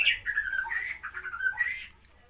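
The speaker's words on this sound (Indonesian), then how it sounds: "Mohon maaf berisik murai-murai karena ini masih pagi" Magpie robins sing in the morning, a run of bright whistled phrases and chirps close by, moderately loud, then fading out near the end.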